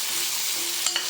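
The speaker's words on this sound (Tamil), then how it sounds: "கத்திரிக்காய் போட்டு நல்லா வதக்கிக்கலாம்." Eggplant sautéed in a pan for a Tamil eggplant kuzhambu, giving a short, steady hissing sizzle closed by two quick spatula scrapes.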